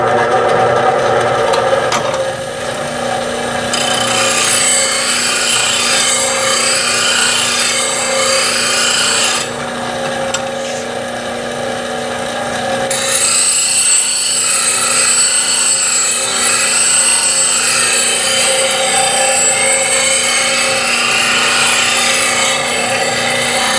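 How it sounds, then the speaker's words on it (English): A bowl gouge is sharpened on a grinding wheel with a jig fixture, giving a loud, continuous abrasive rasp and grind with a steady motor hum underneath, shifting in tone as the tool is rolled across the wheel. "So let me show you sharpening with this fixture."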